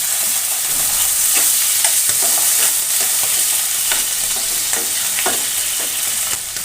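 Onion and tomato frying in a pan sizzle loudly and steadily as a little water is added, with scattered stirring clicks over the constant hiss and no voices.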